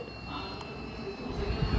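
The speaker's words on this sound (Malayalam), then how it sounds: "ഏത് ഏതോ ട്രെയിൻ വരുന്നുണ്ട്" A large train drawing near over a long bridge, a low continuous rumble with faint high whine building gradually and growing louder toward the end, heard alone without speech.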